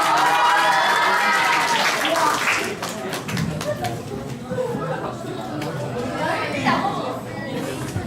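An audience applauds a student presenter, steady clapping and crowd chatter that holds throughout and slowly thins toward the end, with voices talking over it.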